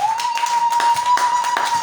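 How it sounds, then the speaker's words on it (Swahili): A congregation at a Sunday church service claps in a quick, steady rhythm, the sharp hand claps ringing out over a constant high tone, with no one speaking. "Piga Bwana makofi mazuri katika jina la Yesu Kristo."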